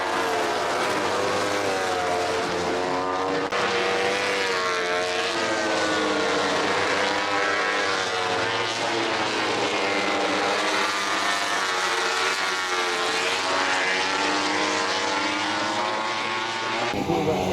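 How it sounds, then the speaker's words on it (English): MotoGP racing motorcycles scream past at the Mugello circuit, a loud continuous high-pitched engine wail rising and falling in pitch as bikes pass, with no talk over it. "there will be some videos of the bikes moving themselves so you can hear them"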